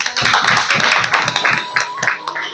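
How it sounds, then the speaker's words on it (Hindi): A crowd applauds at a public gathering in Sitapur, with dense, continuous clapping from many hands sustained throughout, no speech over it. "इनके लिए एक बार तालियां हो जाएं।"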